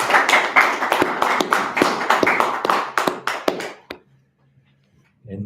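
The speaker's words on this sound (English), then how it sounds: "let's give the Most High a round of applause." A congregation claps at a church gathering, loud quick hand claps for about four seconds that thin out and stop, followed by near silence and a faint sound at the very end.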